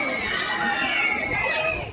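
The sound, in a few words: crowd of visitors chattering at Maa Tara Tarini temple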